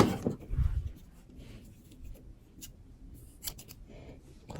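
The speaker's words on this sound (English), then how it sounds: "On the last one, you take your scissors," Scissors cutting yarn close by while finishing a crocheted hat, a few short crisp clicks and snips scattered over a few seconds in an otherwise quiet room.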